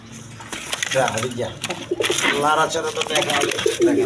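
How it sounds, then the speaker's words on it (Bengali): Pigeons coo repeatedly at close range in a market setting where pigeons are sold, their throaty calls overlapping with someone talking. "একদম কোয়ালিটি সম্পন্ন কবুতর দেখেন আপনারা নিবেন"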